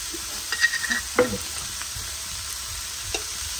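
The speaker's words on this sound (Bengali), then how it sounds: "এর মধ্যে ভাজা ভাজা হতে শুরু করেছে। এখানে দিয়ে দিব হচ্ছে কিমা" Minced meat and onions frying in a pan, a steady soft sizzle with a few scraping stirs and light knocks of the utensil near the start.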